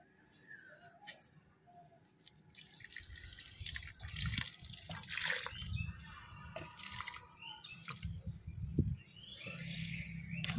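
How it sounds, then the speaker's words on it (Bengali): Water trickles and drips as plants on a rooftop are given a little water, a soft uneven splashing that builds and fades over several seconds, fairly quiet, with faint bird calls in the background. "একটু জল দিয়ে দেব।"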